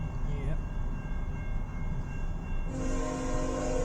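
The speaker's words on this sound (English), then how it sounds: "Train, second one." A CN freight train passes at a level crossing in Richmond, Michigan, with a steady low rolling rumble of rail cars and a horn blast sounding in the latter part, heard from nearby.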